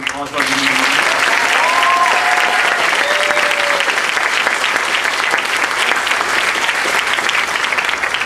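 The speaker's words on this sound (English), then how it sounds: "give one more round of applause" An audience applauds at a high school spring concert, a dense sustained clapping that starts abruptly and stays loud to the end, briefly under a voice near the start.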